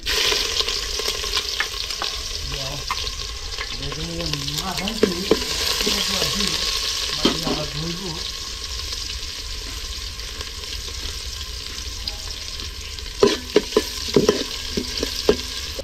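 Whole spices and chopped onion fry in hot oil for chicken biryani, a steady close sizzle broken by scraping stirs and a few sharp clinks of a spoon against the pan near the end.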